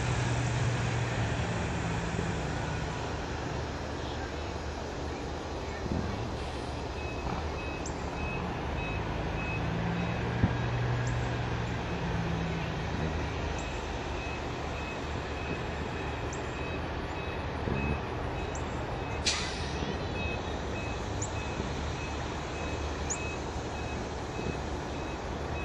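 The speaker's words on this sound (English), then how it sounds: "How many trucks a day are coming out here?" Heavy trucks idling and moving on a rural property, a constant low engine rumble with repeated high reversing beeps sounding at intervals over roughly half a minute.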